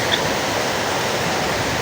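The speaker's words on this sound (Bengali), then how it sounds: "ভীষণ বৃষ্টি।" Very heavy rain pours down in a dense, unbroken roar of steady hiss, loud and constant throughout with no voices.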